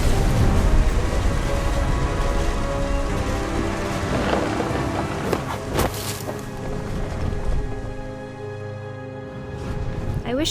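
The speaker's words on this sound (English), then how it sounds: "Thunder sounded much too close and full of angry power." Steady rain with rolling thunder in the game What Remains of Edith Finch, a continuous dense downpour filling the scene with a few heavier booming swells midway and some faint background voices.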